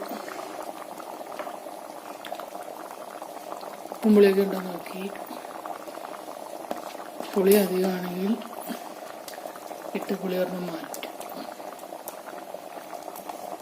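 Fish curry bubbling and gurgling steadily as it boils in a clay pot, while a person talks over it at intervals.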